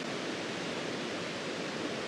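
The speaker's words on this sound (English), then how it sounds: "That waterfall is really beautiful." A waterfall on a hiking trail pours as a steady, broadband rushing roar, constant and unbroken throughout, fairly close, with no voices.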